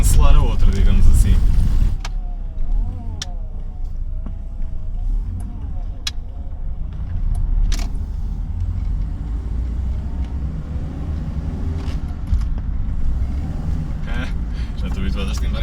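Alfa Romeo 33 driving with its engine and road rumble steady throughout, a wheel slightly out of alignment; someone talks over the car noise for most of the stretch.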